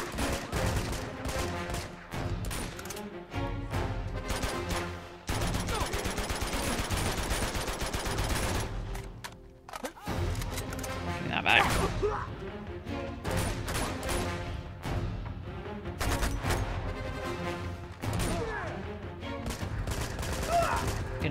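Rapid gunfire in the action game Uncharted 2: Among Thieves, with dense repeated automatic bursts and sharp cracks almost continuously, brief pauses between volleys, loud and close over game music.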